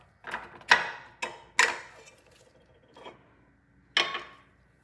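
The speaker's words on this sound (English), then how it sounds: "all we have to do is unscrew the thumb nut and slide the camera fixture out of the housing" A thumb nut is unscrewed and a camera fixture slides out of a custom GoPro housing with internal battery, giving a handful of sharp, close plastic clicks and knocks spaced across a few seconds of near silence.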